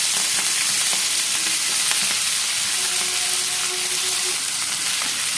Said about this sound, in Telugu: కలుపుకుంటూ ఆయిల్లో ఫ్రై చేసుకోవాలి